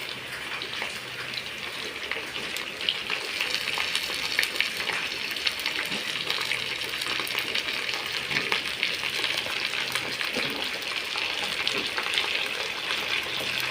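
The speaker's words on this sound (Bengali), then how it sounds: "চিকেনটা এভাবে ভাজা হবে, তেলে ভাজা হবে।" Chicken pieces frying in hot oil, a steady loud crackling sizzle with bubbling spits, continuous and close throughout with no talking.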